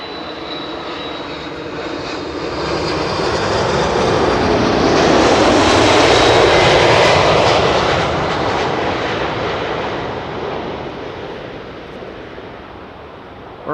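A jet airliner landing at Schiphol roars past using thrust reversers, the engine rumble swelling to a loud peak midway and then slowly fading, with no other sounds.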